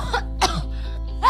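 Short coughing bursts in a cold and flu medicine advert, about three harsh coughs spaced over a second or so, close and fairly loud against a steady low hum, with no talking.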